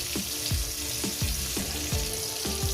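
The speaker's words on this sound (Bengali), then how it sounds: "আমি কত সুন্দর করে টমেটোটা আমি ভেজে নিচ্ছি" Tomatoes fry in a pan with steady oily sizzling and crackling, with a regular scraping stir repeating about twice a second, close and fairly loud, with no talking.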